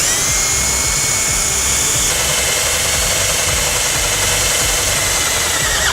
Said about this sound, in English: We're going to take a 7/32 drill bit and drill a hole.